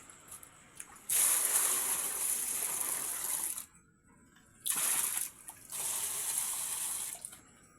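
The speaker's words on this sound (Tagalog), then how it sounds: "Lalagyan na po natin ng tubig." Water is poured into a container in two long, steady gushes with a short quiet gap between them, close and fairly loud, ending with a brief trickle.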